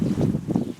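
Steady gusts of wind buffet an outdoor garden on a hot day, a continuous low rumbling roar that swells and eases in slow pulses, close to the microphone and alone.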